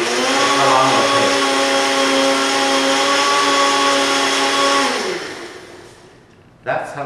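A blender purees salsa, whirring loudly at a steady, high-pitched drone for several seconds, then spins down and stops, followed by a brief clatter.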